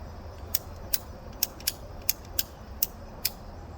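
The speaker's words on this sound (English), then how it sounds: "I'm going to try to hold it as square as possible to this radius there, and then just ratchet it, and it cuts it pretty easy." A ratchet pipe cutter cuts through gas pipe with a series of sharp, evenly spaced clicks, roughly one every half second, close and clear over a low steady hum.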